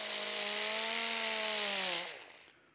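A power tool grinds chrome plating off a brass Porsche quarter window piece, a loud steady whine that climbs slightly in pitch for about two seconds before it winds down and stops.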